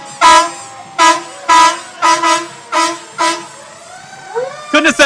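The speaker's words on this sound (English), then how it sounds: "These sirens are blaring, and that means this parade is going in." Loud horn blasts at a Christmas parade in Tupelo, about six long harmonic blares in a row with short gaps, then a cluster of quicker honks at the end.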